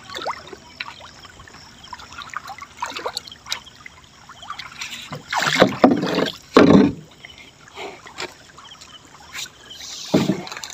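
A small boat is rowed forward on a fish pond, with soft water trickles and louder splashing oar strokes that come in irregular bursts, strongest near the middle and again at the end.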